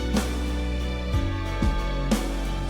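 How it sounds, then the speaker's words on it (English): Tubular bell sample from the BBC Symphony Orchestra library ringing over a sustained layered chord in a music production, with a few bright metallic strikes whose long tones hang and blend into the pad, no voices present. "we have like a tubular bell sound from the BBC Symphony Orchestra."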